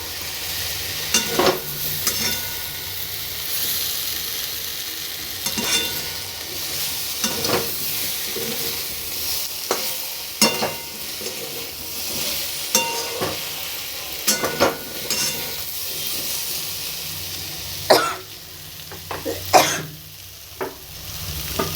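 Spices fry with a steady, close sizzle in a pan while a utensil stirs through them, scraping and tapping the pan at irregular intervals over about twenty seconds.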